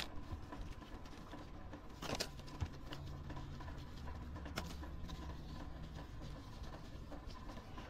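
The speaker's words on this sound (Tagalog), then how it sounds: "Naririnig yun yung mga patak ng ulan." Steady patter of rain falling outdoors by dumpsters, a dense continuous wash with a couple of sharper drips or knocks, and no talk.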